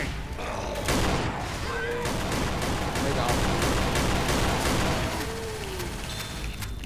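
Shotgun blasts and other gunfire in Left 4 Dead 2, a dense run of loud, close shots with booming hits and game chaos, with brief voices underneath.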